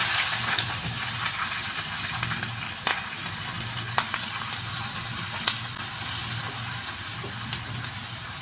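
Onions frying in hot oil with whole spices such as cloves and bay leaves for a chicken curry make a continuous sizzle, broken by scattered sharp pops and clicks throughout.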